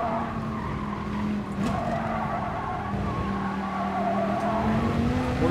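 Race car tires in Gran Turismo Sport squeal and skid in a long sustained screech over a steady engine drone, loud and close.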